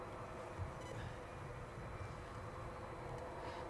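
Jet aircraft engines spool up at Edinburgh Airport, a steady distant rumbling roar that holds at an even level throughout with no talk.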